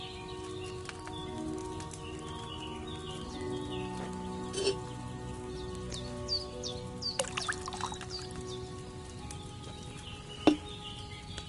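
Wine is poured into an alchemy cauldron in the video game Kingdom Come: Deliverance 2, a soft, quiet liquid trickle beneath outdoor ambience of chirping birds.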